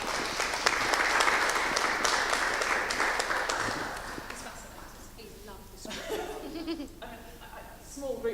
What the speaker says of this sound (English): Small group, but I've got rapturous applause.